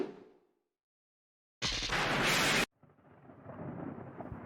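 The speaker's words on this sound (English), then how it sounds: "Lightning and thunder struck like an explosion." A short, loud burst of thunder cracks after a quiet pause in the video game Higurashi When They Cry, followed by a softer rumbling wash of noise.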